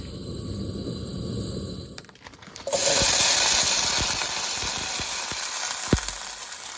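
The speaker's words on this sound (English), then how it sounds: "first saute some onions and peppers" Onions and peppers hit hot oil in a pan on a Trangia camping stove, bursting into a loud, steady sizzle after a few seconds of quieter clatter, with occasional scraping and stirring knocks under the continuous hiss.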